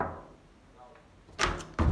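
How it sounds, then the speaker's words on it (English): A few knocks on a bedroom door, close and loud, arriving as two quick bursts of thuds after a quiet stretch. "Let me just knock on his door"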